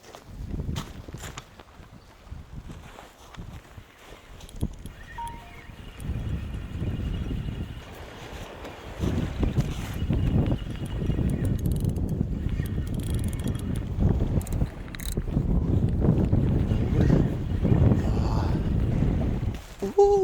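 Wind blowing at a seaside fishing spot, gusting and buffeting the microphone in a steady rushing roar that swells louder over time, with brief speech early on.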